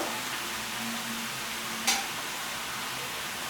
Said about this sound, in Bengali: ভালো করে আলু আর বেগুনটাকে ভেজে নেবো